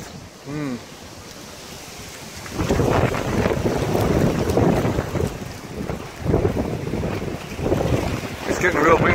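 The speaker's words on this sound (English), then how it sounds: "It's getting real windy." Strong wind buffets the microphone outdoors in Western Australia, a steady broadband roar that swells and gusts after a quieter start, with a faint voice early on.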